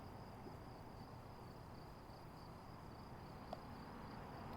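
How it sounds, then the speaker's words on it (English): Crickets at a roadside viewpoint keep up a faint, steady high-pitched trill across the whole stretch, a continuous insect drone with no talk over it and only a tiny click near the end. "Can just hear crickets."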